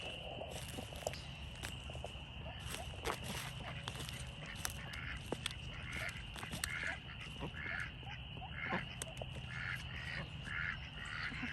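Ducks quack and honk close by as they are walked out toward a pond, with repeated nasal calls and scattered footsteps over a low background hum.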